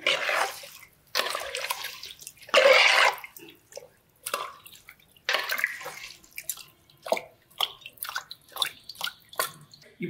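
Mutton soup ingredients with turmeric and salt being stirred by hand in a pot, giving wet sloshing and dripping bursts with irregular soft taps in between, heard close and alone.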